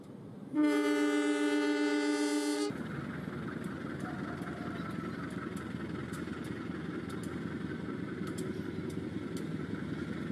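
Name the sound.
train departing, sound effect in radio drama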